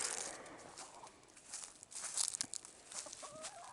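Hens cluck softly a short distance away, a few scattered low calls over quiet background noise.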